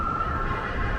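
An ambulance siren wails loud and close on a city street, a steady tone that holds for the whole moment with traffic rumble beneath it and no talking.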